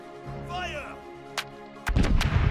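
Ship cannons firing in the naval battle game Corsairs Legacy, a shouted voice followed by a sharp boom and then a heavy burst of several close blasts at the end.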